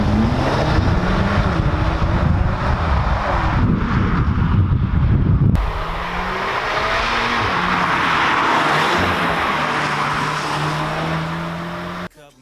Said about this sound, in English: Some very nice sounds coming out of the Audi S3 there